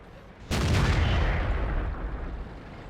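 A tank gun fires once in World of Tanks, on the Sand River map: a single loud, close boom that rings out and slowly decays over the following seconds.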